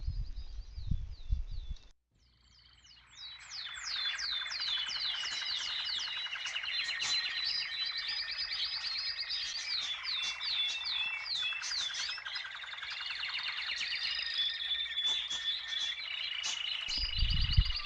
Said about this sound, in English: the songs of birds adds to the serenity